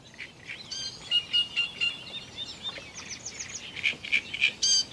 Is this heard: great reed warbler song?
yes